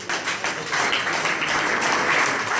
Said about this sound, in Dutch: dus applaus voor Jaap Visser.